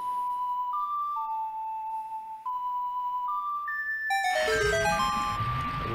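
An ocarina plays a slow melody of sustained single notes in Zelda: Ocarina of Time inside the Water Temple. A bright chime flourish and rising rumble follow as the tune completes.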